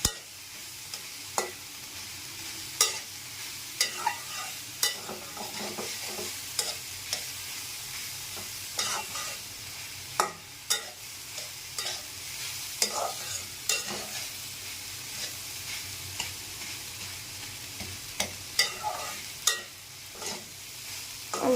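Water spinach (kalmi shak) stir-fries in a pan, a steady close sizzle broken by frequent sharp scrapes and clanks of a spatula tossing the greens, with no one talking.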